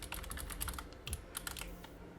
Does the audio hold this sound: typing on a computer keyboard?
yes